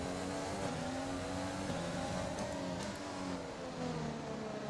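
Race car engine in the F1 2020 video game during an overtake, a loud sustained high-pitched whine with shifting revs held constant throughout, close and dense.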